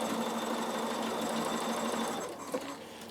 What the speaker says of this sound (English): I'm going to straight stitch down both sides